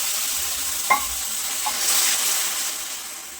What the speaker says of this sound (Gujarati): થોડું પાણી ઉમેરીશું.